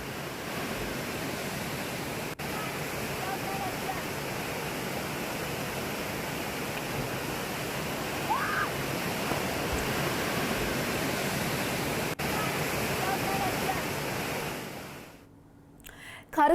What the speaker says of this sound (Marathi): नदी आहे ती दुथडी भरून वाहते